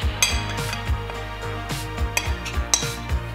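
A utensil stirs a dry rub of onion powder, black pepper and other spices with brown sugar in a bowl, making repeated quick scraping and clinking strokes, close and moderately loud, over a faint steady background hum.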